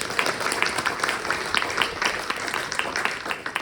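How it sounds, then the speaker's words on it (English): Audience applause greeting Ehab, a Palestinian from Gaza, before he addresses a panel on Palestinian rights; steady clapping at moderate level over the whole moment, with some scattered voices mixed in. "give a warm round of applause for Ehab as he addresses"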